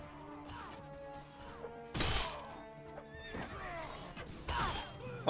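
A horse whinnies loudly in the medieval combat game Mount & Blade Warband, amid clattering hooves, sharp thwacks and crashes of battle, with a held musical drone underneath.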